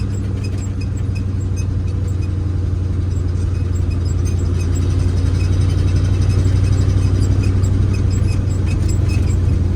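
A 1968 IH Fleetstar 2010 truck hauling a load of soybeans, with a loud, steady, low engine rumble heard from inside the cab that drones without pause throughout.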